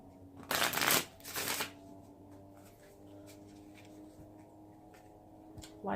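Chakra cards are shuffled for a tarot reading in two quick, close riffling bursts, followed by quiet handling and soft taps.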